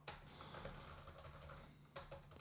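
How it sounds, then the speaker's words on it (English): Typing on a Chuwi LapBook 15.6 budget laptop keyboard, a steady patter of soft key presses beneath a constant background hiss, with a sharper cluster of taps near the end. "There's no sort of lag or delay in typing whatsoever,"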